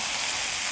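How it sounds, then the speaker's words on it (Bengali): Fried jackfruit and potato pieces hit hot, oil-released masala in a pan, giving a steady close hiss of sizzling that fills the whole short moment without any voice. "এবার ভেজে রাখা এঁচোড় আর আলুটা দিয়ে দেবো।"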